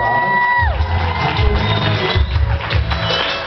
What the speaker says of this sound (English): big round of applause for our bride and her